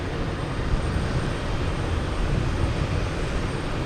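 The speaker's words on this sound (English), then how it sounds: "here's the American Airlines 777, Boeing 777 coming in from London" An American Airlines Boeing 777 arriving from London Heathrow roars in to land at Logan Airport, a steady, dense broadband jet rumble heard at a distance with no talk.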